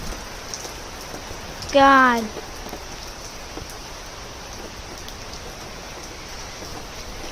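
Heavy pouring rain falls outdoors as a steady, dense hiss through the whole stretch. A person briefly exclaims near the start.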